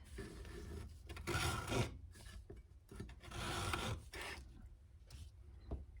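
Rasping strokes of a small saw cutting tiny wooden pieces to length for a model skiff, several bursts of back-and-forth scraping, close and fairly quiet, with no talk.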